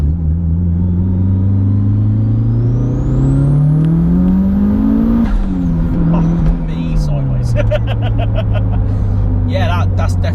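A modified 501 bhp Mitsubishi Evo 7 accelerates hard from a hill start, the engine note climbing steadily through a gear before a shift drops the pitch and it pulls again, loud and continuous inside the cabin.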